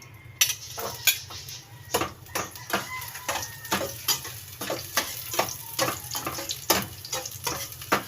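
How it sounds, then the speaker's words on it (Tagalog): Garlic sautéing in a pan, a steady low sizzle under repeated sharp scrapes and clinks of a spatula stirring against the metal, fairly close, with no talk. "Unahin natin gisahin ng ating bawang."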